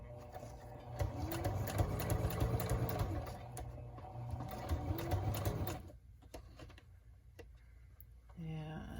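A sewing machine stitches a folded roll of paper snippets, buzzing steadily up close for about six seconds before stopping, with a short burst of stitching again near the end and a voice speaking faintly underneath.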